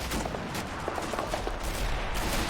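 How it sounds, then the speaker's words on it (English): Vehicle-mounted guns firing in Men of War: Assault Squad during a 1944 battle along the Rhine, heard as a continuous, dense rattle of shots under loud, broadband combat noise. "Looks like we got some sort of a vehicle firing."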